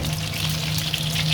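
Chicken wings deep frying in hot oil with salt added mid-fry, a dense, steady sizzle and crackle that stays loud and close throughout, with no voices.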